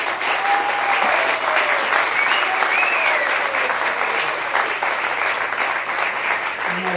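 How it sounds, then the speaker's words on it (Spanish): Audience applauding at a medical school graduation ceremony, sustained dense clapping from a large crowd with a few faint voices calling out over it. "pido un aplauso"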